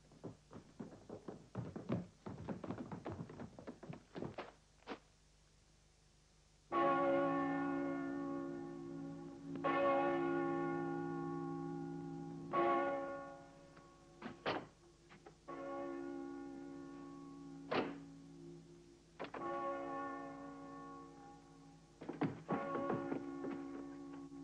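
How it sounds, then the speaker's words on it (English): A castle alarm bell rings out repeatedly with heavy resonant strokes, each one left to decay before the next, loud and close over a low background hum, with no voices. "Ring the alarm bell."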